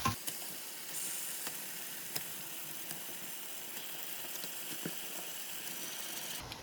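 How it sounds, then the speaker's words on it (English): Lamb meat sizzles in a curry pot with a broad, even hiss that runs throughout, dotted with faint crackles and clicks at a moderate distance; no voices. "now I'm ready to throw the meat in. Okay, so the lamb is going in first."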